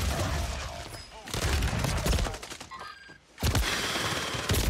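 Gunfire in the Warzone video game: dense rapid bursts and fusillades that stay loud almost throughout, with one short lull before heavy firing resumes.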